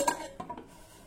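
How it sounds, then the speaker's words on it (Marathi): A metal pot holding soaked dried peas with water and salt is set down inside a pressure cooker, giving a few light metallic clanks and knocks close by, with no talking. "कुकरमध्ये आता आपण हे भांड ठेवूया।"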